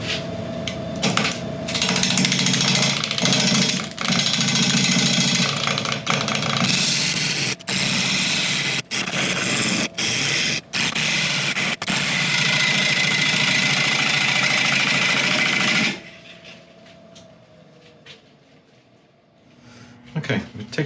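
A wood lathe spins a very hard apple log while a tool cuts into it, making a loud, steady grinding whir that runs unbroken for a long stretch before dropping away to near quiet.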